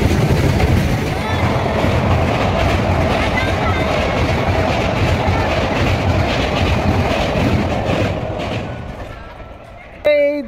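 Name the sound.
train passing by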